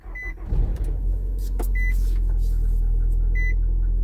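A 2016 Nissan car engine turns over with a brief cranking burst, then settles into a steady, close idle hum, with a few electronic chime beeps sounding on and off.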